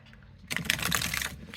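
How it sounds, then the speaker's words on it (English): A deck of linen-finish cardstock tarot cards is shuffled in a quick riffle, a dense burst of crisp fluttering clicks lasting about a second after a quiet start, close by. "it shuffles very well because it's a linen"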